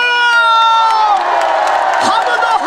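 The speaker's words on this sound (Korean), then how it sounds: "우리 함성을 한번 지릅시다" A large crowd at a pumba festival, a Korean beggar-minstrel performance, roars with cheers, whoops and shouts, loud and close. A dense wall of voices rises and holds steady throughout.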